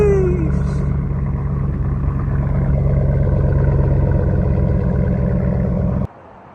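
A Ram pickup's HEMI V8 idles with a loud, steady low rumble and even harmonic drone right after starting, then cuts off abruptly near the end, with no talking.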